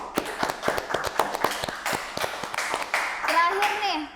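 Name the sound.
audience applause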